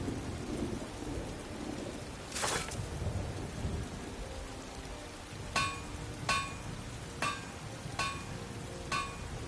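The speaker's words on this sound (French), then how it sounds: "Il y a de l'orage dans l'air." A thunderstorm with steady rain in the video game Skyrim, with a loud rumbling thunderclap early on and then a series of sharp, evenly spaced knocks over the continuous patter of rain.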